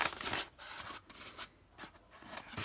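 Scissors snip through a piece of paper, each cut a short rasping burst, several in an irregular rhythm, close and fairly quiet.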